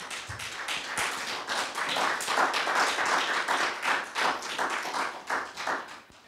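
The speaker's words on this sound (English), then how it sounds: "Let's give the Lord Jesus a hand clap of praise." A Baptist church congregation gives a hand clap of praise at Sunday worship, a close, loud burst of many hands clapping with sharp individual claps standing out, swelling and then thinning toward the end.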